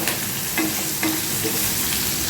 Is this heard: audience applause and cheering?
no